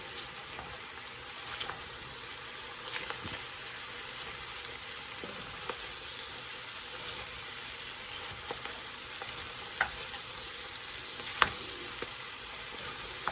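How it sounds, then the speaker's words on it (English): Cabbage and bacon are stirred together in a full pot, a quiet, steady frying hiss with occasional light scrapes and knocks of the spoon, close by and with no talk. "give it a good stir."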